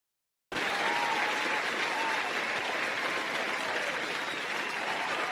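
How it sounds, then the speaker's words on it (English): After a brief silence, a canned applause sound effect opens a comedy livestream, bursting in suddenly as a full, steady crowd clapping that carries on evenly to the end. "thank you, fake applause"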